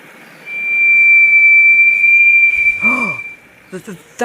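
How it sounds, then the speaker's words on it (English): A steam engine's whistle in an animated railway story gives one long, loud, steady shrill blast lasting about two seconds. Brief voices follow it. "That's Percy's whistle, said Derek, alarmed."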